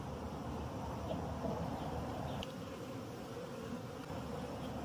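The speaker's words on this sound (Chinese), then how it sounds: "这个蜜蜂哗啦哗啦往下掉，你看我手臂上爬这么多" A swarm of wild honey bees buzzes in a dense, steady drone while a wild hive is harvested by hand. The close, loud hum fills the whole stretch with no letup.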